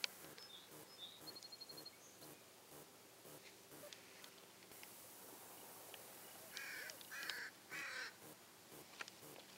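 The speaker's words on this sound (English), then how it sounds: "You probably hear the birds overhead, right?" Crows caw a few times in the distance over a quiet outdoor hush, with faint bird chirps scattered throughout.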